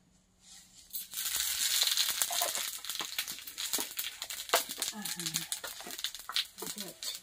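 Panch phoron spices hit hot oil in a home kitchen for a chachchari, a sudden crackling sizzle that stays busy and close, with people talking over it.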